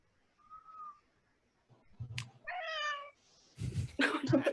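A cat meows several times in a quiet room, the cries drawn out and varying, with short gaps and rustling noises between them.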